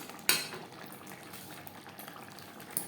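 Chicken boiling in a pot for aloo chicken kosha, a soft, continuous bubbling simmer with a sharp utensil clink at the start and another near the end.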